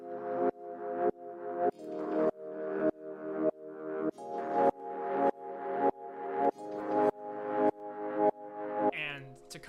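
Soft, somber keys play a simple chord progression in a beat, pulsing as a dozen evenly spaced chord swells that each fade in and cut off sharply, quiet and steady in rhythm.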